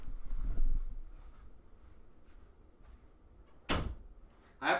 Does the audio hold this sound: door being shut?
yes